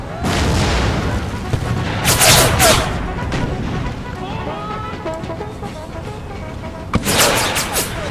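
Civil War artillery and musket fire in a Total War battle between Confederate and Union armies, with bursts of booming gunfire around two and seven seconds over a steady battlefield din, and someone talking throughout.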